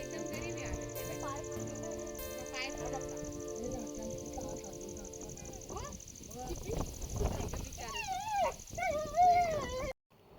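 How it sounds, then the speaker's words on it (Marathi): A farm dog whimpers and yips in short bursts over a steady tonal background, the high whining cries growing louder and more frequent toward the end before cutting off abruptly. "माझ्याकडे पाहून भुंकतो, तुझ्याकडे पाहून नाही भुंकत ते."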